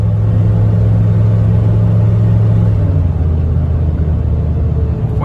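A 6.5 diesel truck engine accelerates with a loud, steady low rumble and drone, its pitch shifting slightly partway through, heard close and alone without talk.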